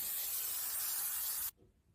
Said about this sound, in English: it's setting mist. It's like, it reminds me of hairspray.